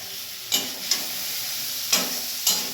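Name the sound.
chowmein being stir-fried in a pan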